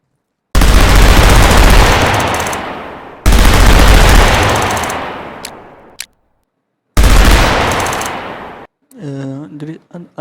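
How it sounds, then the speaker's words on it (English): A custom automatic weapon in a video game fires in three loud sustained bursts, each cutting off abruptly with a fading tail, followed by a voice speaking at the end. "the weapon is making a weird noise every time we shoot it"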